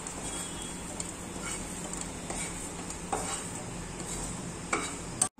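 Besan sabzi sizzles steadily in hot oil in a pan while a spoon stirs and scrapes through it, a close, continuous frying hiss with occasional clinks and no talking.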